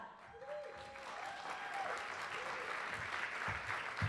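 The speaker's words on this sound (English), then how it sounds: "Please help us welcome, with a round of applause" A round of applause welcoming a speaker at a Hispanic business luncheon, a steady crowd of clapping hands heard at a distance across the room, moderately quiet, with a brief voice over it early on.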